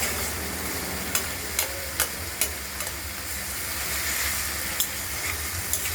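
Garlic and nigella seeds sizzle in hot oil in a wok, a steady, fairly quiet frying hiss broken by several sharp scrapes and taps of a stirring spoon.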